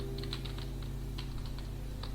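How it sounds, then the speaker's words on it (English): A computer keyboard is being typed on during a class 10 computer studies lesson, with light, quick clusters of key clicks set over a steady low hum, soft and close. "In the bracket I have to type the message."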